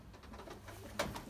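Racing pigeons in a loft give a brief, soft cooing close by, over a low steady background.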